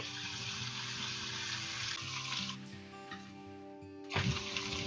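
Ground beef frying in a pan for a beef chimichanga filling, giving a steady close sizzle with soft clatter of stirring and a brief louder burst near the end.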